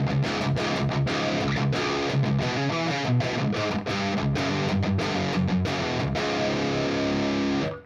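A 1988 Charvel Model 1C electric guitar with humbuckers, distorted, chugs through a fast, punchy riff with muted, rhythmic picking, loud and bright, then cuts off.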